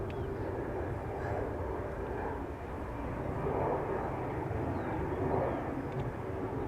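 A KLM Boeing 737-900 in SkyTeam livery roars on takeoff at Schiphol's Polderbaan, a steady broad jet rumble at moderate distance with slight swells, with no talk over it.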